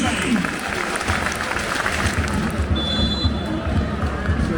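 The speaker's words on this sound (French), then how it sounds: "Et la sortie du buteur français, sous les applaudissements." A football stadium crowd at Nordjylland applauds as a substituted forward leaves the pitch, broad continuous clapping and crowd noise with low rumble, while a commentator talks over it.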